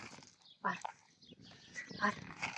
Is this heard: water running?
no